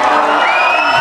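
A crowd cheers and whoops loudly at close range in a short, dense burst, with excited shouting mixed in.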